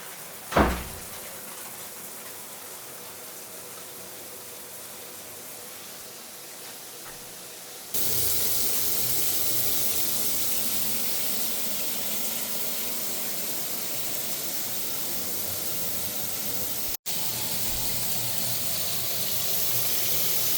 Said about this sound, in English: I'm just going to turn the water on now